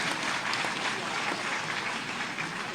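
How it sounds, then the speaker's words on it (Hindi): Audience applause at a public government event in Bhopal marking a new train service, a steady, dense wash of many hands clapping, heard at a moderate distance and fairly soft throughout. "उतने जोरदार तालियां बजाएं।"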